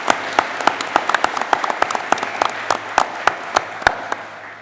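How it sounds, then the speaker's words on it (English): Crisp, scattered handclaps ring out from an audience applauding panelists at a crisis response stakeholder panel, individual claps distinct and fairly close over a softer bed of clapping. "So huge round of applause for CADA and the panelists."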